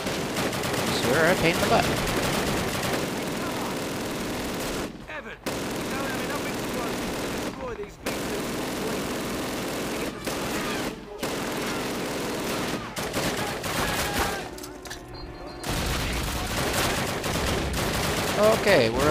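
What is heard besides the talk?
gunfire in the video game Call of Duty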